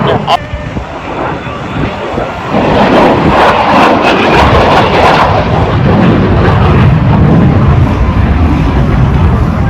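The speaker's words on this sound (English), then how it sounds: "Here's the unrestricted vertical climb." A military jet climbs vertically at the Gatineau-Ottawa airshow, its engine roar building into a loud, sustained broadband rush, while a voice speaks over the public address.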